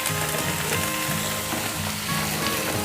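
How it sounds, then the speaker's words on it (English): Onions and tomatoes frying in a pan for chole, a loud, steady dense sizzle filling the whole moment, close and continuous with no voices. "Now saute them"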